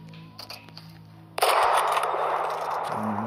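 A few faint clicks, then a sudden loud gunshot blast in the video game Project Evo that trails into a long noisy rumble and echo.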